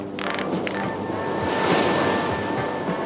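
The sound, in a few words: stormy ocean waves and wind at sea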